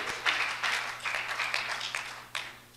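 A church congregation claps in praise, uneven bursts of hand claps swelling and fading at moderate distance, fairly quiet overall, with a low steady hum underneath.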